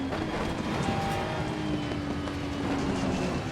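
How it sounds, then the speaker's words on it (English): A Ferrari GT racing car engine in Assetto Corsa Competizione drones steadily at high revs with rushing wind noise, continuous and loud, no voices. "How good is that engine sound?"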